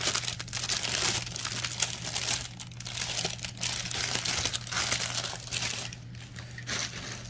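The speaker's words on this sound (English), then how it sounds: "Sorry for all the crinkling noise." Packaging crinkles and crumples continuously as it is handled close by, with irregular rustling bursts over a low steady electrical hum.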